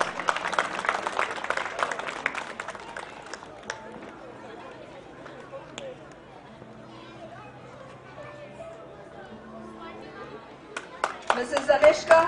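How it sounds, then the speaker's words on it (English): Applause from a school annual day audience starts out dense with plenty of claps, thins into murmuring chatter and a quiet room, then swells again near the end. "Give them a big round of applause"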